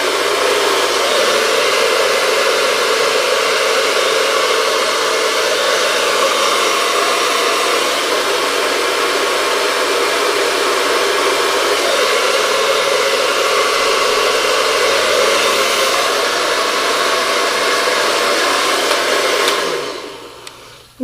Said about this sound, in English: following it with my blow dryer nozzle